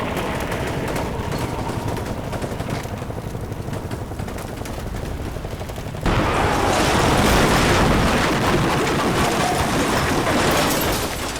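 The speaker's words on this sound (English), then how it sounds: "Lots of explosions back there." Ordnance explosions and gunfire rumble continuously in the combat video game Combat Mission Black Sea, a dense battle din that grows suddenly louder and fuller halfway through, with no talking.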